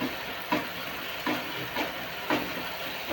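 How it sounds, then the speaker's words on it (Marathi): Onion and tomato fry in a pan with a constant close sizzle, broken by regular scraping stirs about every half second to second, with no talking. "कांदा टोमॅटो भाजला चांगला"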